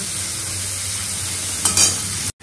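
Turmeric frying in a pan on high heat gives a steady, loud sizzle throughout, with a brief scrape of stirring near the end before the sound abruptly cuts out.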